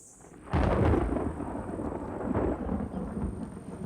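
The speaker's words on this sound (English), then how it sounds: "the sky often rumbles in the late afternoon and it turns threatening" Thunder rumbles loud and deep during a rainy-season late afternoon, a sudden heavy roll breaking in after a quiet start and then sustained as a continuous broad rumble, with rain noise underneath.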